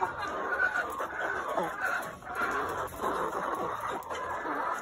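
Chickens cluck and murmur steadily in a busy coop, with a constant background hum; no clear speech.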